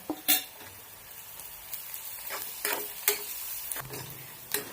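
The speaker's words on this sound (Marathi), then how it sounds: "त्यामध्ये आपण बारीक केलेलं आलं, लसूण, कोथिंबीर आणि खोबरं ते टाकून घेऊया आणि छान परतून घेऊया" Chopped ginger, garlic, coriander and grated coconut being stirred with onion in a pan, soft sizzling under a spatula's scraping and several sharp clinks against the pan at irregular intervals.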